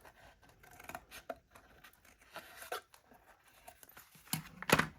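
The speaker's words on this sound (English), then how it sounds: "I'm going to again cut this a little wedge off of here just to make my folding over space easier" Scissors cut a small wedge from chipboard in a handful of quiet, close, crisp snips and scraping crunches, irregularly spaced with a sharper final cut.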